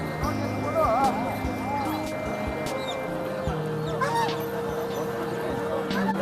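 Turkeys and other fowl call with honking, warbling cries at a livestock market for sheep, goats and chickens, several birds close by over constant crowd chatter and people talking.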